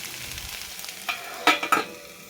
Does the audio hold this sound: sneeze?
no